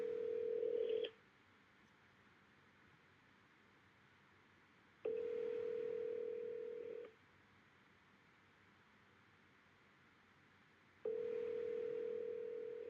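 Outgoing telephone call ringing unanswered, with three long ringback tones spaced evenly about four seconds apart over a faint line hiss, with no voice.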